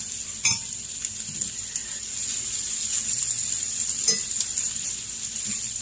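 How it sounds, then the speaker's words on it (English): Greens stirred into a breakfast frying in a pan, a soft steady sizzle under two clinks of a utensil against the pan and light scraping. "Get this stirred in so we can wilt along with the rest of the food."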